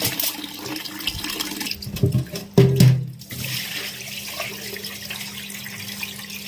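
Fermented soybeans are swished and rinsed in a basin of water, with sloshing splashes and trickles that build to a louder churning burst midway before settling back, and no voices.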